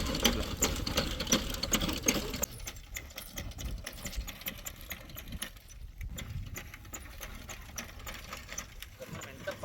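A seed-sowing machine works a field with a continuous mechanical clatter and rattling drone, loud and close at first and then a little lighter. Someone talks over it.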